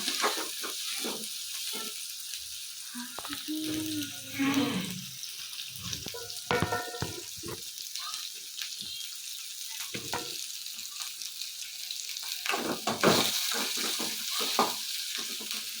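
Chilies and onions fry in a pan with a steady crackling sizzle, broken by scraping stirs and occasional pops, close and moderately loud, with no talking.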